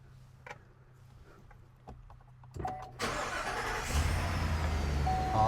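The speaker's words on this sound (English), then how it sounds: "start the car up" Car engine cranking and catching, then settling into a steady idle inside the vehicle after a few quiet clicks and small handling noises, no talk.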